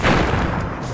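A bomb explodes in the Crash Bandicoot video game, a single loud, broad burst of noise that fills the clip and fades slightly without a break.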